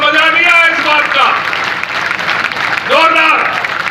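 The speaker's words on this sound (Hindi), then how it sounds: "जोर की ताली बजा दो" Audience applause at a cowshed event, a dense clapping wash that continues under a loud voice speaking over it, fading briefly midway before swelling again.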